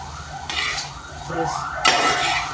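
Noodles being stirred and mixed in a pan with pepper in a home kitchen, soft scraping and clinking of utensil against metal coming in bursts, moderately close, with faint room noise behind.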